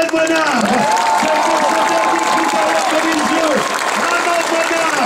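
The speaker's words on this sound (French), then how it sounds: "Nous voudrions que cet au revoir soit évidemment rythmé par vos applaudissements." Crowd applause at a cycling criterium in Lisieux for a retiring rider, steady loud clapping throughout with a voice talking over it and some cheering.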